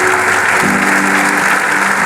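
Church congregation applauding during a sermon on wisdom and revelation, a dense burst of loud clapping that fills the whole moment with no speech.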